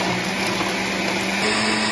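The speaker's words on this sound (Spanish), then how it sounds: "Esto los voy a licuar en la licuadora y después las voy a colar para ponérselo." A kitchen blender whirs loudly and steadily, blending cumin, pepper, garlic and onion, a constant motor drone with a slight shift in pitch near the end.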